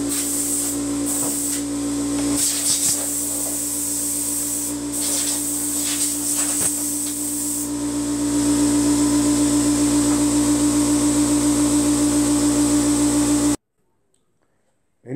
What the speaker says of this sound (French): Petit coup de soufflette pour dépoussiérer tout ça